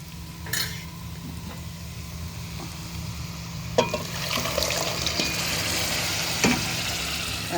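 Tomatoes going into softened onion in a hot pan, with a soft steady sizzle and a few sharp scraping stirs of a utensil against the pan, moderately loud and close, with no talking.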